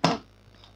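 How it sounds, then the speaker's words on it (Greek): A mobile phone drops during PlayStation 3 gameplay, giving one sharp, close clatter of impact that dies away quickly into near silence. "Έπεσε το κινητό μου."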